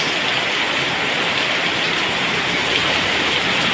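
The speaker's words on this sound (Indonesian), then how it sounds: "Hujan deras." Heavy morning rain in Surabaya, a steady, dense hiss of downpour that stays loud and even throughout, with no voices.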